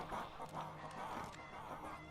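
Chickens in the Fable 3 video game cluck in a quiet, continuous flock, with soft repeated clucks over a low game background and no speech.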